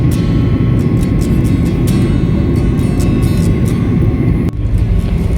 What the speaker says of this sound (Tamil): இப்போ ஃப்ளைட் வந்து லேண்ட் ஆக போகுது.